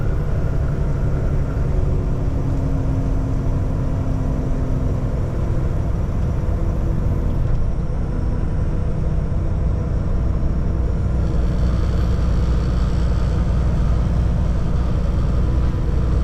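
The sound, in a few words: truck engine brake (Jake brake) going downhill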